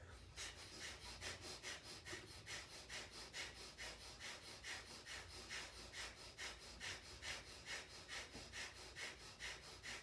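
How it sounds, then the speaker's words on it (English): Rhythmic yoga breath of fire: fast, forceful nasal exhalations repeating steadily at roughly two to three per second, close and fairly loud, with no talking. "you begin a powerful and rhythmic breath of fire here"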